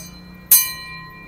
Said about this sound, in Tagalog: Yung doorbell nila dito, ito pa yung mga sinauna pa.